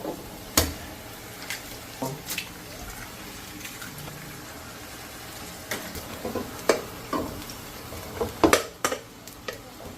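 Egg and garlic frying in leftover karaage oil while being stirred: soft steady sizzle broken by sharp clinks and scrapes of the utensil against the pan, close and irregular.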